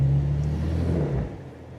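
Jeep Cherokee XJ with tires spinning without traction, a steady low engine drone and whir at close range that eases off near the end.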